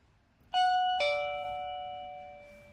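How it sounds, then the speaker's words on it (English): A wireless doorbell chime rings two clear, ringing tones in quick succession while being paired with its indoor unit, the second note lingering and slowly fading, loud and close with no talking. "At the same time, long press the doorbell button."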